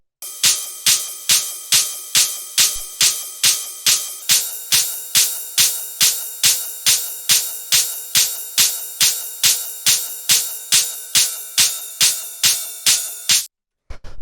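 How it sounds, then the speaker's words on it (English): Hard techno cymbal samples hit in a fast, evenly spaced pulse of bright metallic splashes, each with a short ringing tail. The hits layer thicker partway through, run loud and alone, then cut out briefly before one last hit. "the first thing that we have up here are the cymbals"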